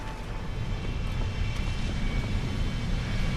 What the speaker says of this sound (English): We are going to jump back in our helicopter dropship thing here.